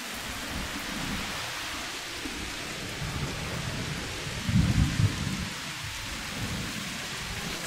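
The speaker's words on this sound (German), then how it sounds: "Der Regen wird schlimmer. Das ist nur ein Sturm." Steady rainfall and a heavy thunderstorm in the video game A Plague Tale Requiem, with a constant rain hiss and a deep rumble of thunder swelling about halfway through before it fades back.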